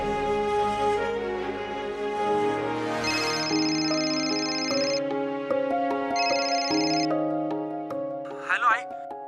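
A phone ringtone plays as a call is placed to someone's mother, a steady melodic electronic tone with repeating phrases over a sustained background, a brief chirp near the end.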